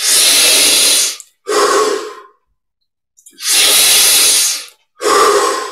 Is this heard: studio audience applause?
no